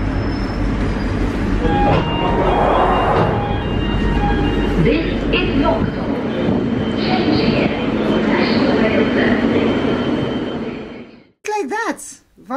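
Loud rumbling and rattling of a London Underground train in motion, heard from inside a nearly empty carriage, steady roar with metallic squeals, then it fades and a voice speaks briefly at the end.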